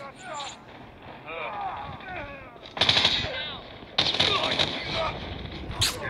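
Bursts of AK-117 automatic gunfire in the video game Call of Duty, with two louder volleys and a final short burst, heard under continuous talking from a player.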